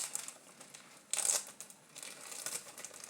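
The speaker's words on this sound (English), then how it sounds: "I zip that up again because the minute I don't, I'll knock it off and coffee will go everywhere" A plastic coffee bag being zipped shut gives a short, close crinkly burst of plastic rustle, with lighter crackling before and after.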